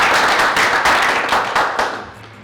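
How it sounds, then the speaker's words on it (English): An audience at the official closing of a medical practitioners' training in Rwanda applauds the volunteers: dense, loud clapping with a steady beat that gradually fades out. "I want a big round of applause for them"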